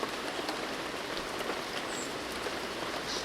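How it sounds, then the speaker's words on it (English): Steady rain falling on a surface as an audio drama sound effect, with an even, continuous hiss of close, dense drops throughout and no voices. "listened to the vicious whisperings of the rain"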